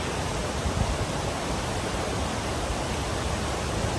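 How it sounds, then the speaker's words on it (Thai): Mountain waterfall pouring down in tiers in the Japanese countryside in summer, a steady, dense broadband rush with no breaks, loud and continuous throughout. "น้ำตกจากยอดเขาลงมาเป็นชั้นๆ ชั้นๆ แบบนี้เลยนะคะ"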